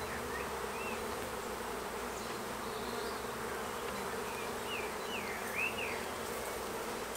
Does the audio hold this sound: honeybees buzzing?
yes